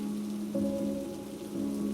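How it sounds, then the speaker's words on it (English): Steady pouring rain, a constant close hiss of drops on a surface with a low droning hum beneath and slight swells in loudness. "Marco woke up to the sound of the rain pouring"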